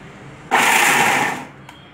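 Mixer grinder running on shallots, salt and coriander leaves, a single loud close whirring burst of about one second that starts abruptly and winds down, followed by a small click.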